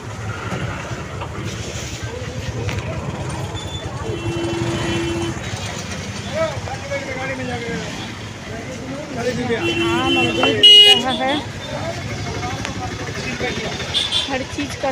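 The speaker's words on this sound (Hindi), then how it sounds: "बहुत लगा ट्रैफिक" Busy road traffic on a street in Vellore, Tamil Nadu rumbles on with car horns sounding in short blasts, while people talk close by over the constant noise.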